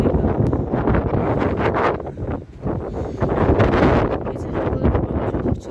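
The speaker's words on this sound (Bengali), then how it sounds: "দেখলেই বোঝা যাচ্ছে কত জোরে হাওয়া।" Strong gusty wind on a foggy mountain trail near Sandakphu and Tumling buffets the microphone with loud, continuous roaring rumble, easing briefly midway before surging again.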